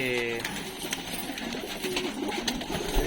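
Pigeons at a fancy pigeon sale coo softly in the background while someone talks over them through steady crowd and outdoor noise.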